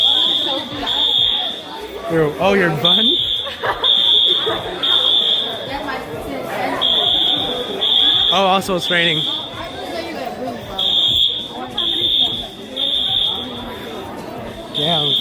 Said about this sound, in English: So someone, the fire alarm got pulled.